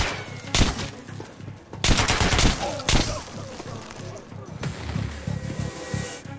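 Gunfire in Metro: Last Light, a post-apocalyptic shooter: loud bursts of automatic weapon fire and shots cracking out in clusters over a rumbling game soundscape, with a voice speaking briefly.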